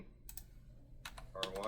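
A few quick bursts of computer-keyboard typing, soft clicks in short clusters over a low background hum, with speech present around them.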